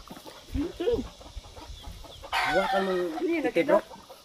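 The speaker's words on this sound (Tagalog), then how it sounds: "Oh, yun yung manok." A chicken clucks and squawks close by in a rural yard, short bursts of fowl calls breaking out in the second half, with people talking around it.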